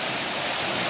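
The perennial Yeram waterfall at Nerur-Palmalai near Kudal, Sindhudurg, pours with a close, steady roar of rushing water over a very short stretch.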